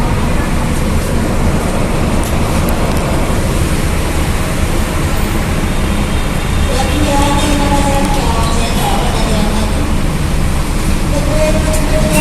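A light rail train passes near a city bus stop, a steady rumble of rail and traffic noise throughout with faint brakes or rail squeal toward the end, and light talk in the background.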